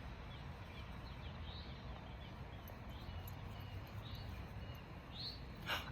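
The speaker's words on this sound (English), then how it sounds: "I hear birds, lots of different birds." Several different birds sing and chirp in a residential yard, short bright calls recurring every second or so over a steady outdoor hiss, fairly distant and soft.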